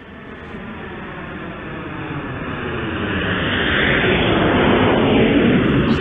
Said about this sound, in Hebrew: זה היה קול של מטוס.